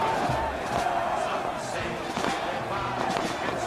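Palmeiras fans celebrating the 2008 Paulista championship title at the Palestra Italia stadium, a dense, loud roar of crowd voices and chanting with scattered thumps, steady throughout.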